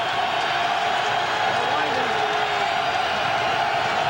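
A dense stadium crowd rumbles and roars continuously at a 1997 NFL AFC Wild Card playoff game, Dolphins at Patriots, a loud steady wash of voices with faint distant whoops mixed in.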